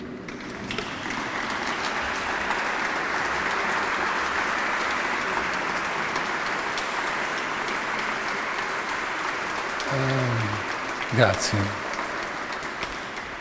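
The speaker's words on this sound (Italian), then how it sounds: "Potete applaudire." A basilica audience applauds after a concert, steady broadband clapping filling the reverberant space for about ten seconds before fading, followed by a brief spoken thank-you.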